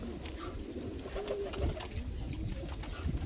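Hungarian pigeons coo softly in a low, murmuring chorus, with a steady background rustle and faint shuffling in a loft.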